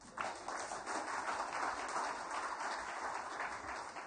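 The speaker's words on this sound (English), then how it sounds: "Avi, we need to give him a good applause once again" An audience at a foundation talk applauds a speaker, a steady wash of clapping held for several seconds, distant and soft.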